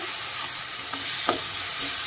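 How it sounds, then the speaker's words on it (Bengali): Ground spice paste fries in a small amount of oil, a soft close sizzle with a couple of brief stirring scrapes, quiet and without voices. "এটা একটু ভাজা ভাজা হয়ে গেলে চালটা ভেজে নেব।"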